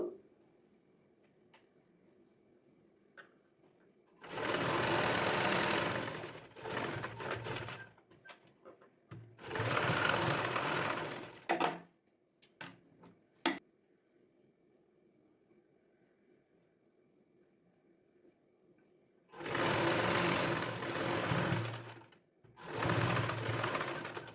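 An electric sewing machine stitches a baby frock in several loud bursts of rapid whirring, separated by quiet pauses with faint clicks as the fabric is folded and repositioned.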